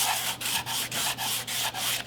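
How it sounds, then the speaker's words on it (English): Rhythmic back-and-forth sanding strokes on painted wood trim, close and steady, about eight passes with brief pauses between them. "when I'm sanding this, the feel is"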